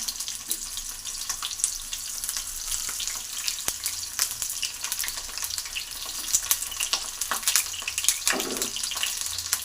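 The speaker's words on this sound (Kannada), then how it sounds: "ಎಣ್ಣೆ ಬಿಸಿ ಇರುತ್ತಲ್ವ, ನೀರಲ್ಲಿ ಹಾಕಿರ್ತೀವಿ ಬದನೆಕಾಯಿ, ಚಟ ಚಟ ಚಟ ಚಟ ಅಂತ ಸೌಂಡ್ ಬರುತ್ತೆ" Eggplant pieces, soaked in water, fry in hot oil with a steady close crackle and sizzle throughout, dense with small sharp pops and a brief louder burst near the end.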